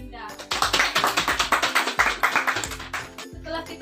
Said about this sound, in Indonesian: silahkan dulu berikan aplaus pada Rini dan Linda